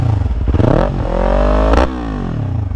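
A Yamaha R3 sport motorcycle engine revs hard, rising in pitch through two sharp throttle blips, then holds a steady, loud idle drone close by.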